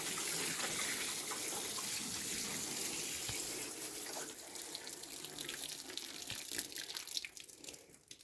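Water is poured from a container through a funnel to water plants at a dacha garden, a steady broad splashing flow for about four seconds that then thins into a looser, trickling, uneven pour, with no talking.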